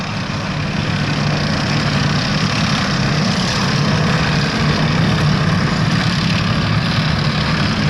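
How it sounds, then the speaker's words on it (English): A tracked army logistics supply vehicle runs its heavy engine at a steady idle, a loud, continuous low rumble with constant level throughout and no voices. "This particular vehicle, we might call it a supply vehicle, the Army call them logistics vehicles."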